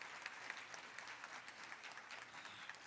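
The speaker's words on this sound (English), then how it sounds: "Let's recognize the teachers here tonight by giving them a round of applause" Audience at a county history fair award ceremony applauding teachers, a sustained round of many hands clapping, even and fairly distant, lasting the full few seconds.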